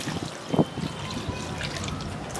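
Water trickles and splashes as it is poured for a bath, a close, uneven pouring with a brief louder splash early on, over steady background noise.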